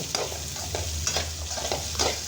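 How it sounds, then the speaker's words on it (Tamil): Coriander and onion sautéing in a pan, a soft continuous sizzle with repeated light scraping strokes of a spoon at a steady rhythm, over a low background hum. "மல்லி அதையும் சேர்த்து தான் வதக்கணும்"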